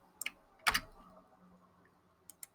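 Short bursts of keys being typed on a computer keyboard while entering an equation, a quick pair of taps, a louder cluster of clicks, then two light taps near the end, close and fairly quiet.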